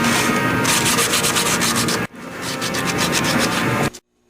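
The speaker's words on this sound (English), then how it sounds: "we're using 150 grit sandpaper to get all of the black stuff that's got left behind from the old head gasket" Close, steady scrubbing of 150 grit sandpaper across a 2004 VW Jetta 2.0L cylinder head, clearing old head gasket residue, loud and continuous with one brief break before it stops abruptly.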